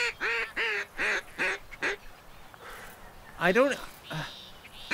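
Cartoonish duck quacks from a duck-hunting video game, several in a quick run and then a few more, loud and nasal, with someone speaking briefly between them.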